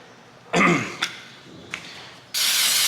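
Aerosol brake cleaner sprays onto a dirty propeller in a garage: a loud hiss bursts near the start for about half a second, two short spurts follow, then a long steady spray runs to the end.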